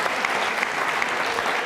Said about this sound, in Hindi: जोरदार तालियां छोटे से बच्चे के लिए